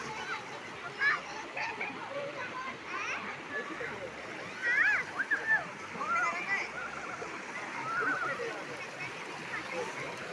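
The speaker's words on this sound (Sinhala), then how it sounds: "ඔන්න අපේ අය දැන් නානවා" People splash while bathing in an icy-cold river pool at a waterfall, with soft irregular sloshes and a few louder splashes over the continuous rush of flowing water, while voices, including a child's, chatter nearby.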